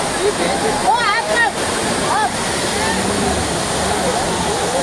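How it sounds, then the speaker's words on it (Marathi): Amboli's main waterfall roars in heavy monsoon rain: a steady, dense rush of falling water that fills the whole clip, with brief higher chirps over it. "आंबोलीच्या मुख्य धबधब्यापाशी आम्ही आलेलो आहोत, पण पाऊस एवढा आहे."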